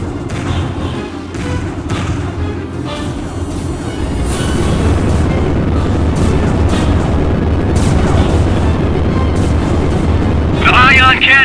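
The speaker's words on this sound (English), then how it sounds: "The ion cannon is targeting us." Ion cannon blasts and explosions in the space-combat game Starlancer, a loud dense wash of booming rumbles and thuds that builds and sustains, with a voice speaking over it.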